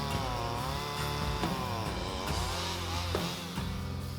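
A chainsaw runs steadily and loudly up close, its engine pitch dipping and rising as it bites into a fallen tree.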